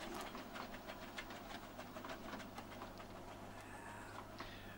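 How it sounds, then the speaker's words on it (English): A small train at a seaside steam gala pulls out, heard as a steady, fairly loud rumble and clatter with a low mechanical hum beneath and no voices. "there's a little train pulling out now"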